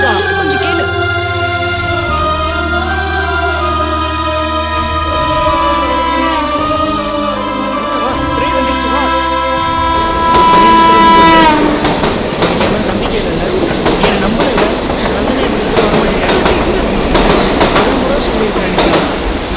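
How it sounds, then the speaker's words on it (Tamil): A train departs in a Tamil film scene, starting as music-laden rumble and swelling into loud, continuous clattering rail noise as the carriages roll. "ட்ரெயின் வேற கிளம்பிடுச்சு"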